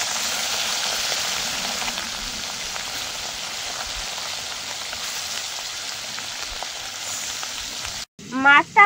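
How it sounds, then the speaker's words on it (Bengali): Sitapati fish fry in hot oil with a dense, steady sizzle and crackle close by, ending in a brief clatter and a short bit of sound from a person. "মাছগুলো ভেজে নেব"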